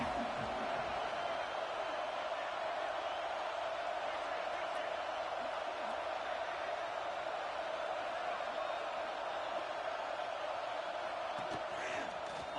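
Stadium crowd noise in a college football video game at an Auburn home game on third down, a steady, distant roar sustained throughout at moderate level beneath a commentator's voice.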